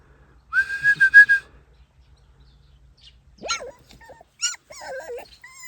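A small dog's high whimpers and whines come close in short bursts, with more whining cries later; no clear growl stands out.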